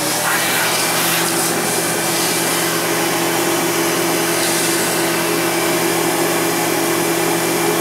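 Riccar Vibrance R20 Ultra Premium upright vacuum cleaner, American-made, running right out of the box with a loud, steady motor roar and whine that holds constant and close throughout, no talk over it.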